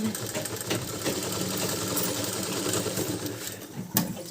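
A sewing machine stitches a neck strip for a kurta, giving a loud, steady, close-up whirring and rattle that holds without a break, with a sharp click near the end.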